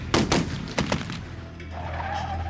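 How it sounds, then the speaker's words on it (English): Several sharp gunshots crack in quick succession in a domestic shooting, three or four loud bursts in the first second, then a low steady hum remains with no voices. "he heard several gunshots."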